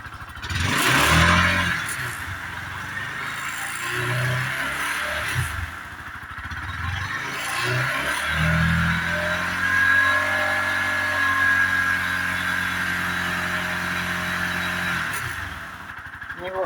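A motorcycle engine revs up and holds at a steady high idle around 4500 RPM during a battery charging system check, a continuous close mechanical drone with a brief rise at the start.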